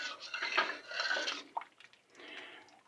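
A spoon stirs chicken soup with thyme, coriander and parsley in a pot, producing soft wet scraping and sloshing swirls with a light metallic tap, close and quiet with no talk.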